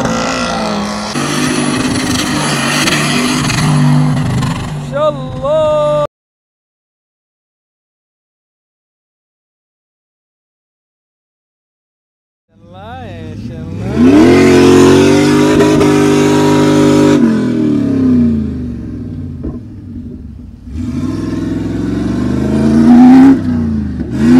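A Nissan Patrol SUV climbing sand dunes in the desert, its engine revving loud and close in two long bursts separated by a stretch of silence, with a rising and falling roar.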